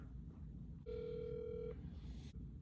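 A single steady telephone dial tone sounds for just under a second on a follow-up business call, then stops, leaving quiet line hiss and faint background hum.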